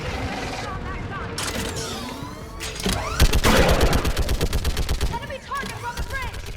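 Rapid automatic fire from a mounted gun in the Mass Effect game during a battle on Thessia, a loud sustained burst of shots with booms and mechanical clatter, under shouted voices.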